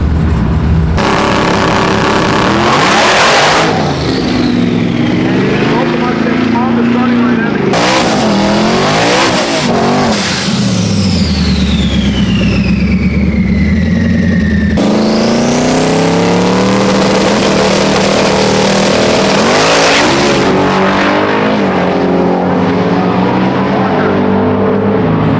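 A 1300 wheel-horsepower drag car accelerates hard in several loud, close revving bursts with rising engine pitch and gear changes, with brief voices heard underneath.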